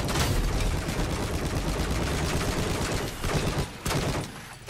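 Dense gunfire in the video game Battlefield 4 during tank combat, loud continuous rattling bursts with a short break near the end, no talk.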